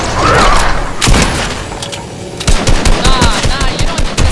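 Gunfire in the Fortnite video game, Team Rumble mode: a loud rapid burst of automatic shots and thumps, a pause, then another dense string of shots close by.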